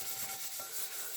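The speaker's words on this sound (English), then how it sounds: "just rub it around your pan a little bit just to get a bit of oil on the inside of your pan" Kitchen roll wiped around the inside of a frying pan to spread oil before making pancakes, a soft, close, continuous papery rubbing, quiet and unbroken.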